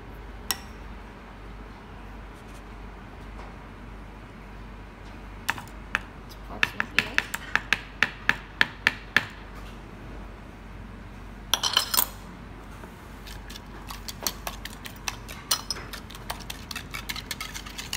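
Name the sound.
whisking egg mixture with cream for French toast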